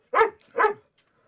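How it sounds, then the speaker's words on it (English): Two quick, moderately loud dog barks in close succession, then quiet; no talking. "so you don't have to listen to him bark as he trots about"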